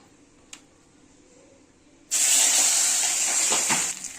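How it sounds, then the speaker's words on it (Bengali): Tengra fish dropped into hot oil in a kadai erupts into a loud, sudden sizzling hiss after a quiet start, holding a steady crackling spray close by until the end. "দেখো মাছটা আমার লাল লাল করে ভেজে নেওয়া হয়ে গেছে"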